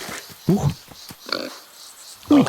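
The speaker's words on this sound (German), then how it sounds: "Grunzen geht auch." A wild boar in the Adorable Adventures forest video game gives two short, close, snorting grunts, one early and one near the end, with softer rustling sounds between them.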